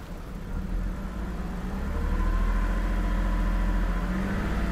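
A BMW 330i engine idling while misfiring on five cylinders, a steady low rumble with an uneven throb that swells slightly louder partway through, heard up close with no talking.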